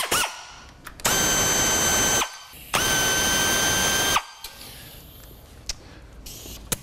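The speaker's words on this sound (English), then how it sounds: "I'm going to go ahead and remove the 4 screws that bolt it to the top of the transmission case." Power drill or impact driver backing out screws from the top of a Baker DD6 transmission case on a 2002 Harley-Davidson Road King, two sustained loud whirring bursts of about a second each, close by, followed by quieter clicks and handling noises.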